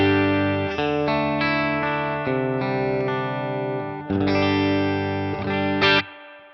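Electric guitar played through a Boss Katana amp on its spring reverb setting at about half level, sustained chords ringing with a splashy, lingering tail, several chord changes with no talking.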